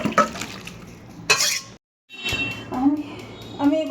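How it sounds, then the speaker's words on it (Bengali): Scrubbing a kadai (wok) clean after cooking at home, with scraping and clinking of metal utensils, broken by a short pause and splashes of water. "আমি এবার কড়াইটা মেজে নিচ্ছি।"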